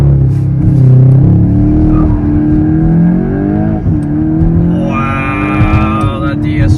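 A VW MK8 GTI with a DSG gearbox and an aftermarket turbo inlet roars through a launch-control start, its engine note climbing and dropping at a gear change before a higher whine rises toward the end, with a voice over it.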